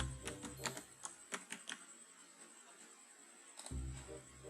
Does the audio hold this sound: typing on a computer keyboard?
yes